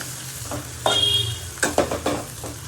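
Green chilies and onions sizzle in a pan while being stirred, a low steady frying hiss broken by several quick scraping and clinking strokes of the utensil, close up and without talk.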